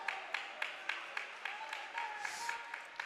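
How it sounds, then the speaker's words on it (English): A small crowd at a UAE badminton club championship gives steady, evenly spaced applause, with crisp claps rising over a soft hall murmur. "Myron applauding."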